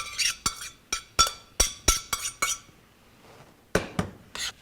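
Butter and corn tossed with pre-cooked orzo in a pan make a run of sharp metallic clinks and scrapes, several quick knocks in a row, a short pause, then a few more.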